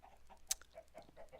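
Chickens in a slime-survival video game give short, faint clucks and one sharp squawk over a quiet background, all within a brief moment.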